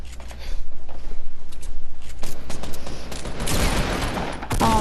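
Rapid gunfire in Fortnite Battle Royale, including pump shotgun blasts, a dense loud volley of repeated shots with building and mechanical clatter, no talking.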